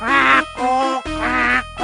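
A voice imitates pig sounds with two loud, strained, squealing calls separated by a short pause, close and alone.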